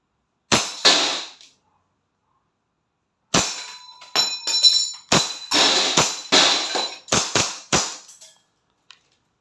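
A WE Hi Capa 5.1 Type R airsoft pistol fires a series of sharp, loud, close gas-blowback shots, first a pair and then a rapid string of about seven after a pause, with no talking.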